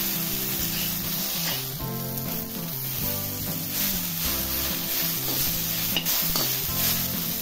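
Coriander and ginger pieces fry and are stirred in a pan while making Kolhapuri kharda green chilli thecha, a steady close sizzle running under prominent background music.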